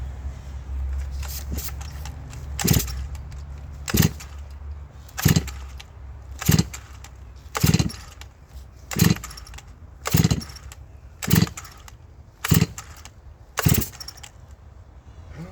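Chainsaw milling a huge black oak log, a rough engine drone broken by about ten loud regular bursts roughly every second and a quarter, close and without speech.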